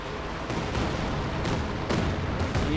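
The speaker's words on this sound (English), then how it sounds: "the Orchard is getting absolutely hammered here by Stalin's organ, aka the Katyushas" Katyusha rocket artillery barrage in a Company of Heroes 2 match, a dense continuous rumble of blasts and impacts with sharper bursts roughly every half second, loud and unbroken throughout.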